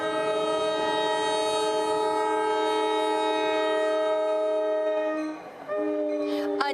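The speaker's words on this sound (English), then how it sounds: "You can hear the oncoming train chugging down the track." A train horn blares loud and sustained as an oncoming train approaches a crossing where a dark blue minivan is stuck across the track, the steady tone dipping briefly near the end before sounding again.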